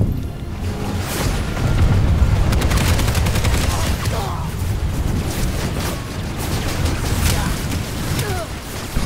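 Heavy, dense gunfire during a battle in Planetside 2: many weapons firing in rapid overlapping bursts, with booms and rumbling underneath, loud and continuous throughout.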